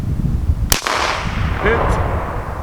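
A single sharp gunshot crack at short range, followed by a brief echoing tail, with background noise around it.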